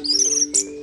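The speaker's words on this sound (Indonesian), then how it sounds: "anis merah tersebut bisa berbunyi" An orange-headed thrush (anis merah) gives two short, bright chirping phrases, loud and close, with a brief pause between them.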